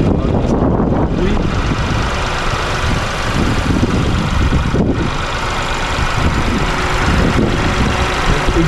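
Peugeot 5008 Hybrid with its 1.2-litre three-cylinder 136 hp petrol engine (EB2) running, a loud, steady close-up engine drone with a slight mechanical rattle throughout.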